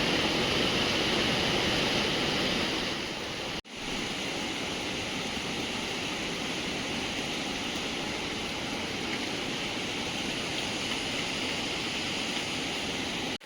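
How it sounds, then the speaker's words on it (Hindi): A waterfall swollen by monsoon rain roars in front of a hillside house, a loud, dense, unbroken rush of falling water with a brief cut partway through. "मेरे घर के सामने जो वाटरफॉल है दोस्तों"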